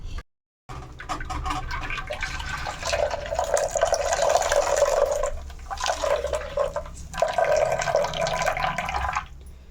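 Coconut milk drips and trickles through a white cloth as the grated coconut is squeezed by hand, with wet splashy bursts that stop and start close by.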